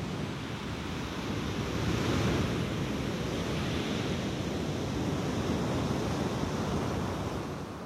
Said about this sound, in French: plus l'océan se déchaîne, plus les vagues grandissent et déferlent, plus je suis captivée.